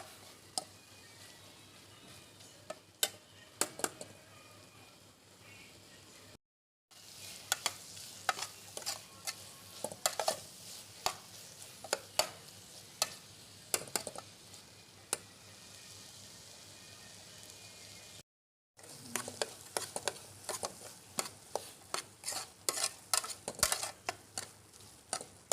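Tomatoes for a fish curry frying in a pan with salt, stirred often with a utensil: a steady soft sizzle broken by repeated sharp scrapes and clinks, with two brief silent gaps.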